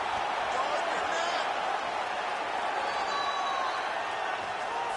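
A constant, broad crowd roar cheers in a UFC 5 video game bout as fighters rise from extended grappling, holding a steady loud wash throughout with only slight swells.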